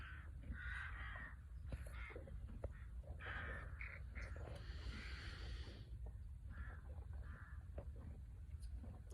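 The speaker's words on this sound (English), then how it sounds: "It's now all the crows come down" Several crows caw in repeated harsh calls outdoors, moderately distant, spread over a low steady background rumble, with no talking.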